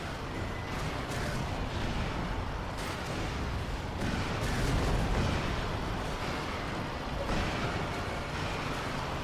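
Rockets fire and explode in a robot-invasion shooter game, a dense, continuous roar of blasts and rumbling booms with no pauses, loud and close throughout.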